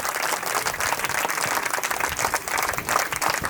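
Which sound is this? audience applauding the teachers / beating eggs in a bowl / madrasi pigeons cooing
audience applauding the teachers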